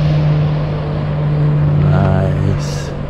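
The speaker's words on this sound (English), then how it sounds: "here's somebody with a jet ski enjoying the calm waters of the lagoon" A jet ski engine drones steadily on a lagoon, a loud continuous motor hum that swells slightly in pitch midway, heard close with wind and water noise and no talk.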